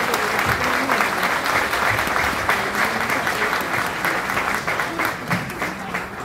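Graduation audience at Pharos Academy in the Bronx applauding the staff, a dense, steady wash of clapping from a large crowd with some cheering mixed in, loud and sustained throughout.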